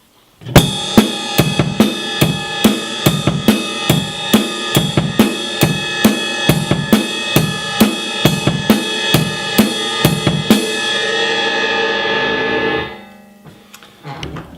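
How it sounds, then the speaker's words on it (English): A steady drum beat played on the ride cymbal, with regular, evenly spaced strikes and a bright, ringing metallic wash sustaining over it, ending with a fading cymbal tail. "So when you take over the ride cymbal, it's going to sound like this."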